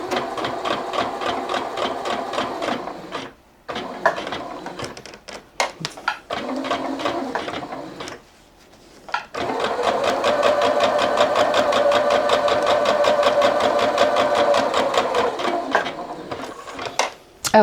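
A sewing machine runs in close, loud bursts while stitching a rag quilt block, sewing down across a bow-tie section at stitch length 3, with short pauses between runs and a long steady stretch of stitching.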